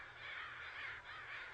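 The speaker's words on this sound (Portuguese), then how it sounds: "Os corvos têm um sistema de comunicação muito rico." Crows caw in a continuous raspy chorus, several overlapping calls rising and falling in loudness over a steady low background hum, moderately distant, with no voices.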